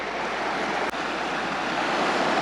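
A river runs at an off-road crossing, a broad steady rush of flowing water heard close and loud without a break, roughened slightly by wind.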